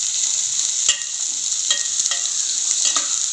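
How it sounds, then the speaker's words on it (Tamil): Sliced onions sauté in oil until golden in a loud, continuous hiss, with a few soft scrapes from stirring, close by and without talk. "பெரிய வெங்காயத்தையும் ஆட் பண்ணிடுவோம் இப்போ பொன்னிறம் வர வரைய நல்லா வறுத்துக்கலாம்"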